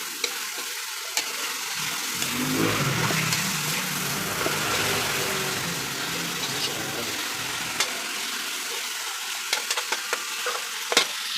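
Ingredients for a chicken pancit fry in a pan while being stirred, producing a continuous close sizzle with a thicker bubbling stretch in the middle and occasional sharp utensil clicks, no speech over it.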